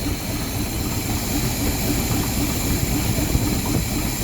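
Carbureted V8 with a Rochester Quadrajet idling after an idle needle adjustment, a steady low rumbling drone with faint ticking, close and alone with no talk.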